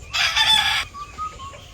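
A bird, not a koel, calls outside a house with one loud, harsh cry lasting under a second, followed by a few faint, thin chirps; no voices.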